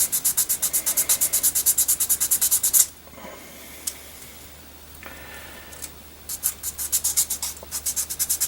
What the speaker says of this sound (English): we're going to use the plastic piece. And we're just going to sand that smooth.